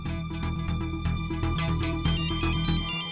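A mobile phone rings loudly with a bright, busy melodic ringtone that plays continuously for a few seconds, with no voices over it.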